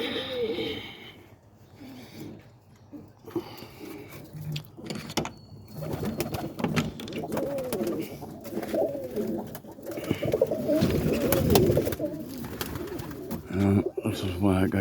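Roller pigeons in a small backyard coop at early morning, with soft cooing and bird calls close by under steady rustling and a person talking over most of it.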